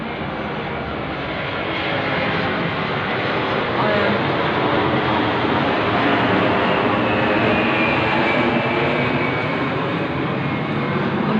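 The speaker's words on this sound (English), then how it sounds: "look, patrol plane overhead" A patrol plane passes overhead above a small dead-end suburban street at night, its engine a steady, loud broadband drone that holds for the whole stretch with no break.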